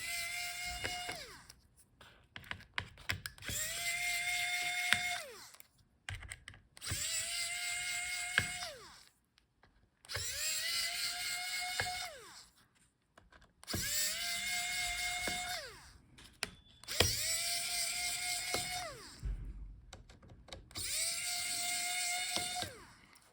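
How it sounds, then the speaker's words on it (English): Screws being backed out of the heatsink on an MSI Bravo 15 laptop with a small electric screwdriver: six whining bursts of a few seconds each, evenly spaced with short pauses, close and clear, with no talk. "So unscrew all the screws."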